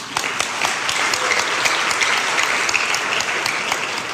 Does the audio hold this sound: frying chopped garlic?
no